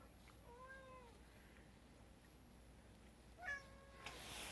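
A cat meows nearby, two drawn-out rising-and-falling cries a couple of seconds apart, clear over a quiet room hum.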